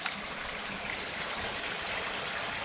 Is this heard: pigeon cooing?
no